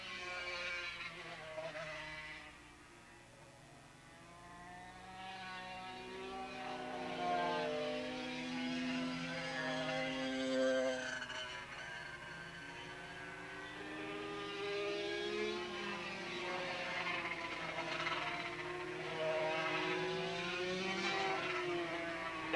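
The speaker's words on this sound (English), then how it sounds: "And remember, these are only little 250cc Grand Prix bikes." Small 250cc Grand Prix racing motorcycles at Willow Springs International Raceway scream past, high-pitched engine notes rising and falling with Doppler sweeps as bikes pass at speed, with a commentator talking over them.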